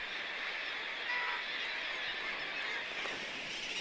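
A crowded guillemot colony packed onto cliff ledges makes a dense, continuous wash of distant calls and growling chatter, steady and unbroken.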